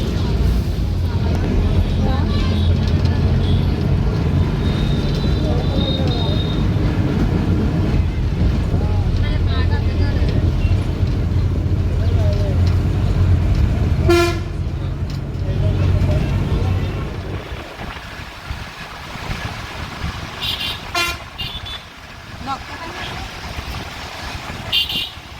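Riding inside a moving bus, with a loud, steady engine rumble and road noise for most of the ride. The rumble drops near the end, and brief sharp tones stand out. People talk throughout.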